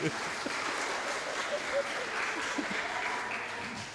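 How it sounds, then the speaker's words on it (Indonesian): Graduation audience applause, a dense steady patter of many hands clapping at moderate volume across the whole stretch, with faint voices mixed in. "Tepuk tangan dulu"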